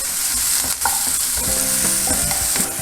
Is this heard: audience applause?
no